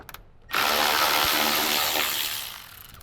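Power tool whirring for a few seconds as it backs out a headlight-area bumper bolt on a Toyota 4Runner, starting abruptly after a brief pause, loud and close, then gradually tapering.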